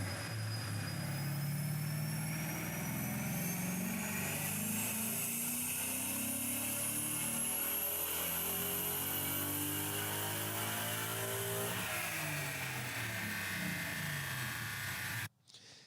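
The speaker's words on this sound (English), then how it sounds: "obviously it's a stick shift. You can tell by listening to it." Manual-transmission car engine revs up through a rising whine, then drops pitch at a gear change before climbing again. It is fairly faint and ends abruptly.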